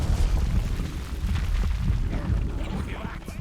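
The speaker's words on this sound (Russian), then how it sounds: "Еще один взрыв, и ему крышка." Explosion in the Overlord video game, a low rumbling boom that rolls on with debris-like crackle, heard close under game ambience.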